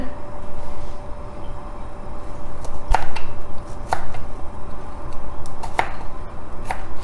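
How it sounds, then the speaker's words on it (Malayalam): A knife chops broccoli finely on a board, giving sharp, irregular taps spread over several seconds against a quiet kitchen background. "ജസ്റ്റ് ഒന്ന് ഞാൻ കാണിച്ചു തരാം എങ്ങനെയാണ് കട്ട് ചെയ്യുന്നതെന്നുള്ളത്"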